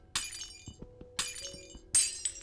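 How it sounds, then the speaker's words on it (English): Glass blocks shattering in Minecraft, three separate bright, crackling breaks spaced about a second apart, with soft clicks and a low hum of game sound between them. "just the physical act of breaking glass without silk touch hurts me to my core"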